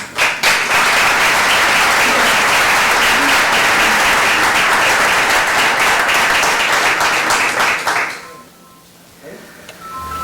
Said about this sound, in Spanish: Tardáis mucho tiempo en darle un aplauso de bienvenida